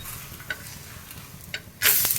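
Gram flour pancake (besan dhirde) sizzling on a hot pan, a soft steady fry with a few light scrapes of a spatula and a louder burst of sizzle near the end as it is flipped.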